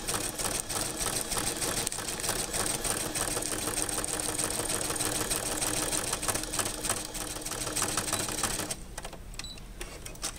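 Sewing machine stitching Capri Sun juice pouches into a party favor bag, a loud, rapid mechanical chatter running continuously before easing slightly near the end.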